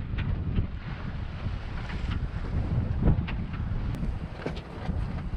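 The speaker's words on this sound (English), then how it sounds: "I think the wind is coming in a lovely direction for us." Steady wind buffets the microphone aboard a sailboat at sea, a constant low rushing noise with faint creaks and splashes from the hull and water, and no voices.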